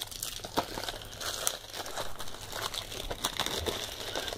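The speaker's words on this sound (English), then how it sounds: "So I'm gonna take off this plastic." Plastic shrink wrap peeled and torn off a Deadpool Blu-ray case, close and quiet crinkling and crackling with sharp tearing bursts in an irregular rhythm.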